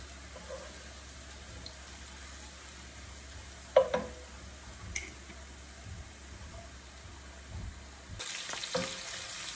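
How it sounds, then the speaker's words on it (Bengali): Onion and garlic frying in oil for a Bengali tempering with black cumin, giving a steady low sizzle with a few sharp spoon clinks and a louder burst of crackle near the end. "এটা একটু বাগার দিব, সেই জন্য একটু আপনার পেঁয়াজ রসুন দিয়ে নিচ্ছি।"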